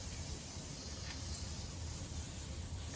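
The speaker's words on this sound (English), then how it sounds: "Spray the hair all the way to the bottom." Hairspray hisses from a can onto hair in one steady, continuous spray lasting a few seconds, close and moderately quiet.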